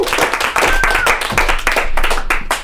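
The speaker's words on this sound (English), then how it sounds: "give a round of applause for Robert" Applause and clapping from a comedy club audience at a live show, dense and close, sustained for a few seconds with some voices mixed in.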